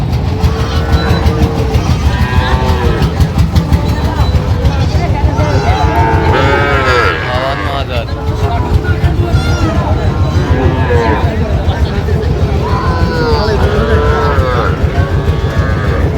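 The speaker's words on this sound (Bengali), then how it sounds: "ষাঁড় বাচ্চা" A bull calf moos repeatedly at a busy cattle market in Barisal, Bangladesh, with the calls rising over constant loud crowd chatter and haggling voices.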